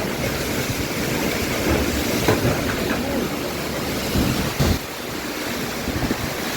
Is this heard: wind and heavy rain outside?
yes